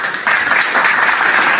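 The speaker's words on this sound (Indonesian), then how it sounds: "Beri tepuk tangan dulu teman-teman." An audience claps in sustained, dense applause that rises and fills the space, loud and continuous, with a faint voice underneath.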